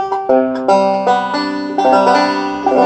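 Banjo strings in drop C tuning, Round Peak style, picked one after another in an open tuning, bright plucked notes ringing together into a slightly dissonant, unresolved chord.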